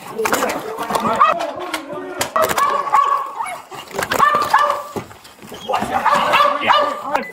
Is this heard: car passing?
no